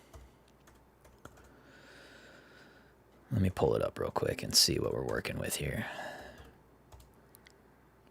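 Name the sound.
one-finger typing on a computer keyboard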